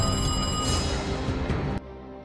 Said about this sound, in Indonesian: ketika telepon yang dia nanti-nanti dari Mary Cruz bersamaan dengan datangnya polisi.